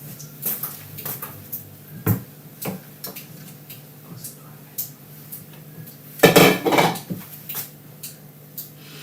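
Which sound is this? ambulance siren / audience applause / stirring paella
stirring paella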